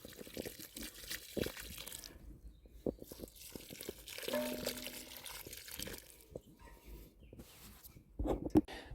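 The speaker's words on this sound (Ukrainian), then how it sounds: "приливаю водою" Water poured into a planting hole for a pepper seedling in open garden soil, heard as soft trickling and splashing in short bursts with gaps, fairly faint and close.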